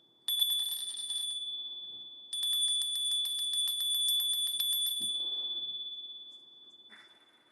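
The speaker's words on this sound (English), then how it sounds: "Let's ring the bell and make it loud." A bell rung hard and loud, giving a sustained high metallic ringing with rapid repeated strikes, pausing briefly once before ringing again and then fading out.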